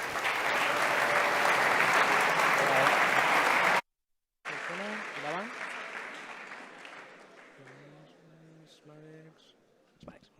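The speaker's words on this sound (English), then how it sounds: "Big round of applause." Audience applause at a hackathon opening ceremony, a dense loud burst of clapping that cuts off abruptly, followed by quieter room sound with a voice speaking.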